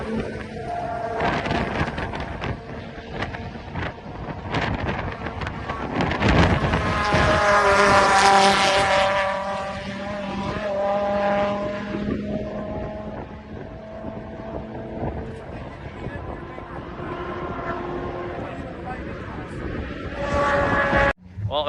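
A GLTC Mk2 widebody race car running on E85 laps a track, its engine droning and rising through the gears with wind buffeting the microphone, loud and sustained.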